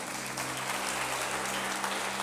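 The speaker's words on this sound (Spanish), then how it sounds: "Denle un aplauso al Señor." A church congregation applauds at a Sunday service, a dense, steady wash of clapping that fills the space evenly for a couple of seconds with no pauses.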